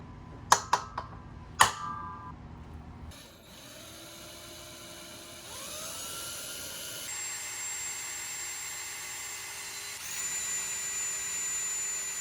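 A few sharp mechanical clicks, then a power drill whirs steadily, its motor pitch rising and settling as it bites in.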